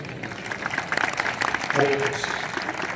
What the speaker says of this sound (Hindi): जोरदार तालियों में प्रभु जी का धन्यवाद करें आप सब।